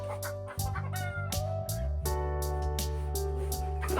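Free-range chickens on a poultry farm cluck and squawk close by in dense, overlapping bursts. The calls run continuously over a low background drone.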